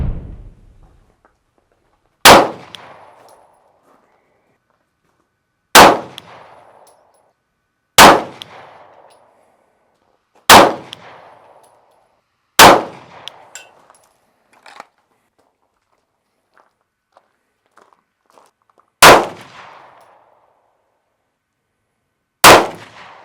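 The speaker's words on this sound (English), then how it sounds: "step these targets back to 15 yards and shoot us another 5-round group" Handgun shots fired at targets 15 yards away while zeroing an Aimpoint sight: seven loud, sharp reports, each decaying quickly, spaced a few seconds apart with quiet gaps between them and no talking.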